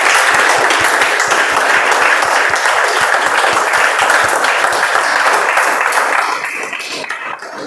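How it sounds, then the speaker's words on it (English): An audience at a community meeting gives the speakers a big round of applause, steady dense clapping at full strength for about six seconds before it thins and fades away. "let's have a big round of applause for all the speakers who have come today"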